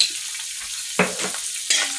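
Clam meat frying in a hot pan, with a continuous close sizzle and two sharp bursts as it is stirred or tossed, no talking.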